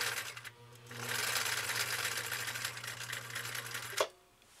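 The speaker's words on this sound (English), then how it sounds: "we'll just focus on listening to the machine run and just enjoy the sewing experience" Husqvarna Viking CL21A sewing machine stitching through single-layer protected full grain leather, a close, fast, steady mechanical chatter that runs for about three seconds before stopping abruptly.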